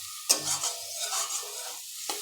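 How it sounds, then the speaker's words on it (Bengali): Chili is stirred into a pomfret and potato curry in a pan, giving soft scraping strokes over a low sizzle, with a sharper scrape at the start and another near the end. "অল্প একটু নাড়াবো, নাড়িয়ে জল দিয়ে দেবো।"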